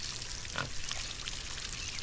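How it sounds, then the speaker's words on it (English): Water poured to fill a pig's water container, a steady rushing trickle with a brief splashier surge partway through, close and continuous for two seconds with no talking. "Let's go ahead and fill up this water."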